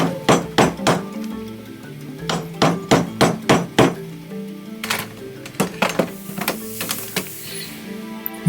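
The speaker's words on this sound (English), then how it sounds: "So I can then chisel them out." Hammer blows drive a chisel through strips cut into an old timber frame in a 300-year-old Suffolk farmhouse under restoration, a series of sharp, close knocks in quick bursts with short pauses between.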